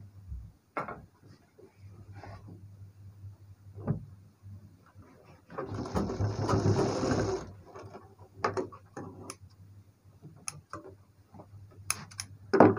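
A sewing machine stitches a blouse seam: scattered soft clicks and handling taps, then a short burst of motorized whirring lasting under two seconds, followed by more small mechanical ticks, close and fairly quiet.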